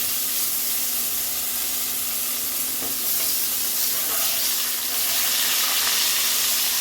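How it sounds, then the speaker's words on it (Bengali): Steady crackling sizzle of potato frying in hot oil with nigella seeds and green chillies, continuous and close, with no voices. "আলুটা আমি একটু ভাজা ভাজা করে নিচ্ছি"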